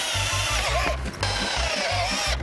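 A power drill bores holes into a zoo enrichment toy for big cats at Everland, whirring in short, repeated close bursts with brief pauses between them.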